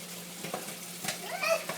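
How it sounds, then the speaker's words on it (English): A young child splashes and stirs water in a sink while washing dishes, soft irregular sloshes and trickles under a steady low hum, with a small voice piping up briefly near the end. "Or are you actually doing dishes?"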